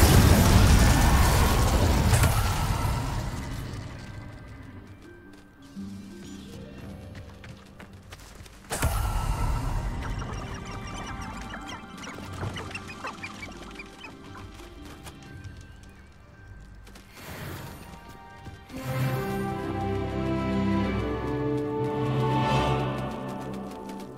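Spell effects in the video game Hogwarts Legacy, loud bursts and whooshing blasts with ringing tonal tails and swelling magical shimmer, several distinct impacts one after another, close and dense.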